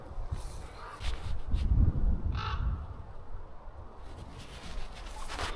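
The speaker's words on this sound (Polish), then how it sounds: "A te kruki robią klimat." Ravens caw a few times at a distance along the Elbląg Canal on a November bike trip, with rough wind-like noise underneath.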